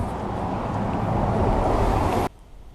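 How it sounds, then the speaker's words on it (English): Cars passing along a narrow street lined with walls, a loud continuous roar of engines and tires echoing off the surrounding buildings, cutting off abruptly near the end. "this particular street can be very loud because of the reflections off of all the walls when the cars pass"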